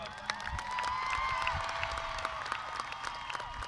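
Audience applause for graduating students at a 2025 high school graduation ceremony in a large hall, steady clapping with scattered cheers and whoops over a sustained background tone.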